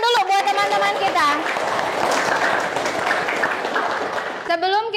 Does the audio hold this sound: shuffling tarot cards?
no